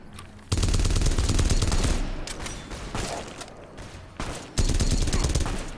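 Rapid gunfire crackles in Fallout: New Vegas, with dense bursts of automatic shots in loud volleys, a short lull of scattered rounds, then another heavy burst.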